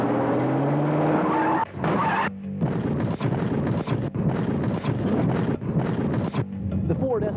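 A Ford Escort Highway Patrol cruiser accelerates during a crash test at about 35 miles an hour, a loud close engine roar broken by harsh bursts and skidding noise.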